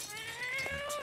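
Cartoon cat meowing in South Park: The Fractured But Whole, a drawn-out wavering yowl heard alone at close range, rising and bending in pitch over about a second.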